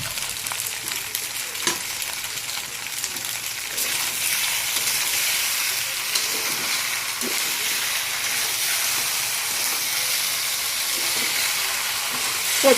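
Pasta sizzles steadily in a pan with tomato sauce, a dense continuous frying hiss running close and fairly loud throughout, with occasional light scrapes of stirring.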